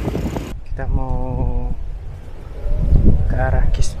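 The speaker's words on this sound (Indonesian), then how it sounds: "Ini suaranya penuh sama angin." Heavy wind buffets the microphone at a beach on Hon Thom Island, Phu Quoc, as a loud, continuous low rumble under people talking.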